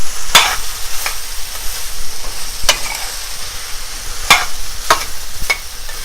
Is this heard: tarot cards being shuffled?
no